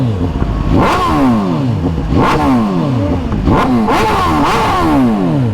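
A stock superbike engine with a titanium header exhaust revs hard in repeated rising and falling blips, about four strong pulls, loud and close with mechanical clatter between them.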